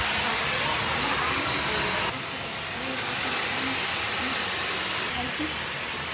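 Dyson Gen5detect Absolute cordless vacuum cleaner running, a loud steady high-pitched whooshing whine that dips slightly in level partway through, close to the listener with no talk.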